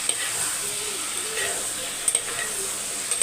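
Vegetables for sambar sauté in a hot pan, a steady soft sizzle with faint stirring scrapes running throughout, close and moderately loud.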